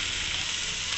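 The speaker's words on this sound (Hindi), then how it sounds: "और अब इसके अंदर हम चिकन डाल देंगे" Chicken hitting hot oil with frying cumin seeds gives a loud, steady, dense sizzle that fills the short moment without pause, close up and with no voices.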